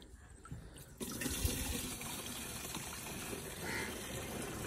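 Water pouring into a crop sprayer tank, a steady rushing and splashing that starts abruptly after a quiet second and continues evenly at moderate distance, no talk.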